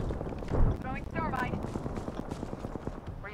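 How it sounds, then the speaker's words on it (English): Video game gunfire crackles in quick bursts as a shooter fires from above, mixed with someone talking over it throughout. "He's shooting from up there."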